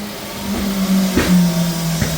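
A 2015 Suzuki Swift's engine, up close, revs briefly to around 1500 rpm, a steady mid-pitched hum that rises slightly and holds, with a faint whine from the air-conditioning system running.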